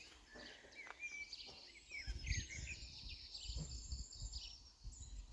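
Birds chirp and warble faintly in the distance on a Normandy boardwalk, with quiet thumps and low rumbling underneath.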